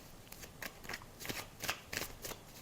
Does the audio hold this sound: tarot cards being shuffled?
yes